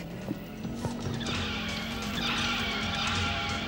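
A car speeds along with a long tyre skid, a sustained rushing screech over engine noise, fairly quiet and steady throughout with no talking.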